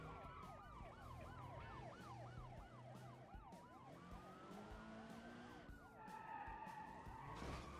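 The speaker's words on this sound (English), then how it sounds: "Sirens went off." Police sirens wail in the BeamNG driving game, several warbling, overlapping tones cycling steadily over the hum of car engines, with a sharper burst near the end.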